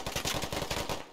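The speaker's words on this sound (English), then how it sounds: "Gonna shoot up into the floor, try to take him out." Rapid automatic gunfire in the video game Squad, a burst of about ten close, evenly spaced shots fired upward through a floor, ending abruptly.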